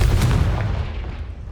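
A Confringo explosion spell from the video game Hogwarts Legacy goes off as a loud, booming blast that fades out over about a second and a half, with no voices.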